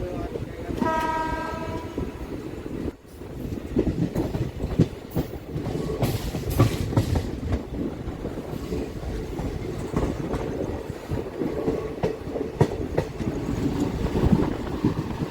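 The 13046 Mayurakshi Express, a Deoghar–Howrah passenger train, rumbles along steadily near the microphone with rhythmic wheel clatter, and a horn sounds in repeated blasts early on.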